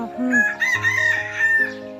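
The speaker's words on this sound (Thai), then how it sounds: "นี่ฟังเสียงไก่นะเพาะด้วยนะ" A rooster crows loudly and close by in a rural village setting, one drawn-out cock-a-doodle-doo with clucking hens underneath.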